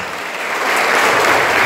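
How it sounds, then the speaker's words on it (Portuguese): Church congregation applauding during a Catholic Mass at Paróquia Nossa Senhora da Escada in Guararema, SP, a dense, steady patter of many hands that swells slightly and holds, with no talking over it. "uma salva de palmas a eles"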